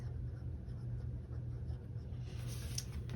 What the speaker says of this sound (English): the next thing I'm going to do is write in my work